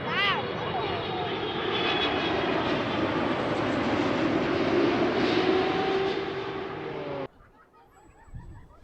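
A Turkish Airlines jet roars past on runway 27R at Heathrow, a loud, broad engine rush that swells and holds for several seconds before cutting away, with people talking excitedly nearby.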